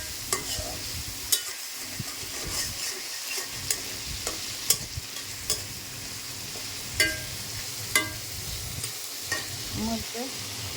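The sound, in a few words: potatoes frying in pan for rohu fish curry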